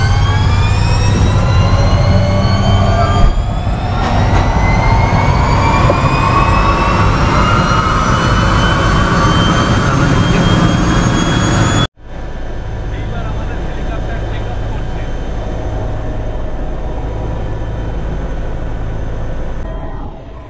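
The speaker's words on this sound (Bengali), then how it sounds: "এরপর নিমেষের মধ্যেই এয়ারপোর্টের মাটি ছেড়ে আমাদের হেলিকপ্টার উড়ে গেল আকাশে" A helicopter takes off from Guwahati airport, its loud turbine whine rising in pitch over a heavy rotor drone, heard from inside the cabin; the sound shifts abruptly partway through and voices speak over it.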